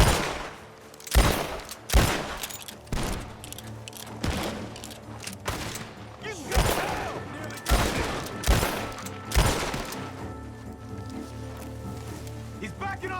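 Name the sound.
gunfire from a barn in the video game Red Dead Redemption 2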